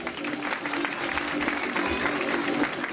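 Applause at a school graduation ceremony, a continuous wash of clapping from a crowd, fairly loud and even throughout, with faint crowd murmur underneath.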